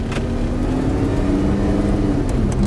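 Lamborghini engine while driving, a steady loud low drone with a sustained hum throughout, no talking.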